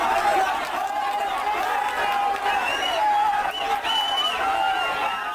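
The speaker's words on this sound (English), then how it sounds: "A massive crowd around the Chief Minister's vehicle." A large crowd surges around the Chief Minister's vehicle at Nandigram, a dense, continuous roar of many voices with shouts and chatter that stays loud throughout, under a clear speaking voice.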